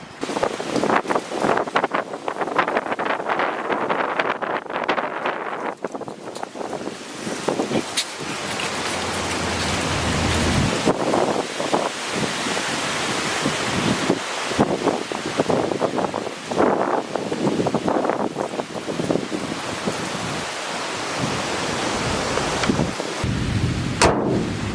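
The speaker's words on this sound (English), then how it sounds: "Here comes the wind." Strong outdoor wind roars and gusts into the microphone in heavy, continuous buffeting with rising and falling surges, a broad rushing noise that stays loud throughout.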